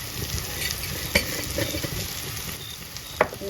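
Onion-tomato masala sizzles loudly in a pan as roasted ground chili and coriander are stirred in for a Kerala fish curry, with a continuous close frying hiss and two sharp utensil clinks.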